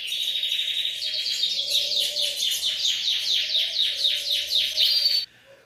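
Ultramarine grosbeaks (azulão), a male and female at feeding, give a rapid series of bright chirping notes close and clear for about five seconds before stopping abruptly.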